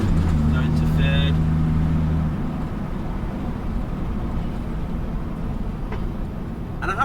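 A 1958 GMC Apache pickup with an automatic gearbox drives in third gear, its engine a steady low hum inside the cab with a brief higher whine near the start, while a voice talks over it.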